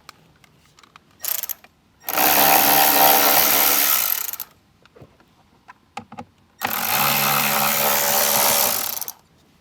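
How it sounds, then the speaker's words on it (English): A power tool backs two screws out of an interior panel on a 2024-or-later Jeep Wrangler JL, two loud, steady whirring bursts of about two seconds each with a brief pause and small handling clicks between them, close up. "So let's get these 2 screws out."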